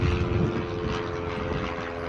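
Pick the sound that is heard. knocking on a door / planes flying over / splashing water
planes flying over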